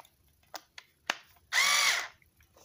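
A Craftsman CMHT6650C cordless screwdriver gives a few light clicks, then its motor whirs up close for about half a second with a high whine before stopping.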